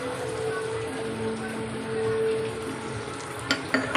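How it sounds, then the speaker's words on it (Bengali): A paste of turmeric, cumin and chilli fries in a pan for Gobindobhog rice pulao, a soft continuous sizzle with a few sharp clinks of the spoon near the end, no talking. "এবার আমি নেড়ে নেবো ভালোভাবে মশলাটাকে কষিয়ে নেব"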